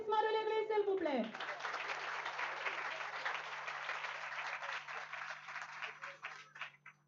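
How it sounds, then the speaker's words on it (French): A church congregation bursts into sustained applause at a mission anniversary celebration. The clapping is dense, loud and continuous and thins slightly toward the end, and a brief tone is heard at the start. "Sous l'applaudissement de l'Église, s'il vous plaît"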